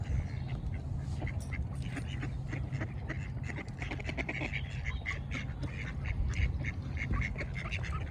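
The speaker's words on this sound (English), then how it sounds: "there's a duck behind me" A duck quacking outdoors in Stockbridge, repeated fairly loud quacks in irregular bursts over steady background noise, with no talk.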